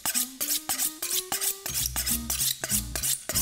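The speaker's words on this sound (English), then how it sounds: "first thing you need to do, sharpen your knife." Steel kitchen knife drawn in repeated quick strokes against a sharpener, a steady run of bright scraping swipes with ringing metallic tones, close and fairly loud, ahead of making sausage pasta.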